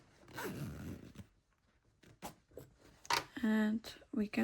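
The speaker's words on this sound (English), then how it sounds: "So I will try to close the zipper." A zipper on a sewn cosmetic pouch is pulled shut in a few short rasping bursts. They come between soft handling noises and quiet speech, close and fairly faint.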